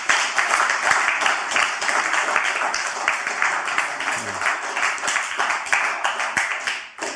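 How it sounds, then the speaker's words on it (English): An audience breaks into sustained applause at the end of a talk, a dense, even wash of many hands clapping that continues steadily for several seconds before tapering off. "I think you've earned a round of applause"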